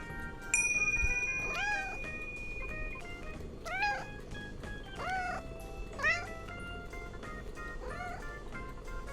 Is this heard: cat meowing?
yes